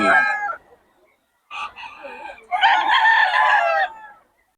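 Roosters crow loudly and close by at a busy market in Bocaue: a short call, a pause, then a longer full crow, with a little voice noise at the start.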